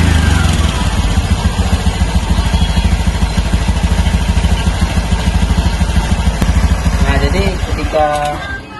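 A motorcycle with an idling-stop system restarts and runs steadily, a loud, close, continuous engine drone with a rapid rhythmic pulse and clatter throughout, easing slightly at the end.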